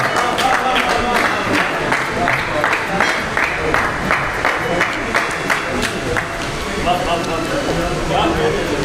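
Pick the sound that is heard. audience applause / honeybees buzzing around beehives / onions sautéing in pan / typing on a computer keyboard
audience applause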